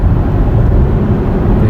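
A Chevrolet Trailblazer with a 1.35-litre engine accelerating, heard as a loud low engine drone and road rumble from inside the car, steady throughout with no talk.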